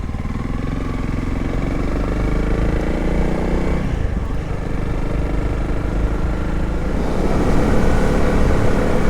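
A motorcycle ridden along a country road, its engine droning steadily and loudly throughout, with a brief dip in revs around the middle and rising again near the end, no talk over it.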